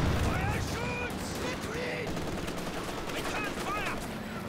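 Gunfire in a Company of Heroes 2 multiplayer battle, with guns returning fire on a Jackson tank destroyer, sounding as steady distant volleys and bursts under ongoing game noise, with a voice talking over them.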